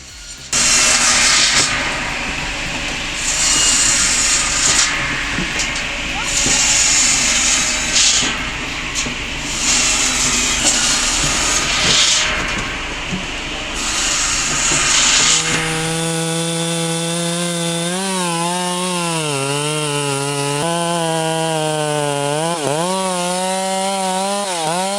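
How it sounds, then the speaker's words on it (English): A chainsaw on a large firewood processor cuts through wood with a loud, rough rasp for about fifteen seconds. It then gives way to a smoother, tonal engine whine that rises and falls in pitch. "It's the symphony of steel slicing through wood, the pause before it tips, and the crack of splintering fibers."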